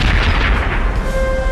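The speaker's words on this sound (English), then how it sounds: "74 guns steadily lobbing cannonballs at Wellington's center." Artillery barrage at the Battle of Waterloo, with Napoleon's 74 cannon firing steadily at Wellington's centre: a dense, continuous rumble of heavy booms under a steady tone at the end.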